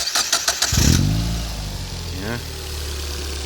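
A Mazda MX5 engine fitted in a Westfield kit car, running a factory ECU on a basic wiring harness, cranks a few rapid times, catches and settles into a loud, close idle, with a voice speaking briefly.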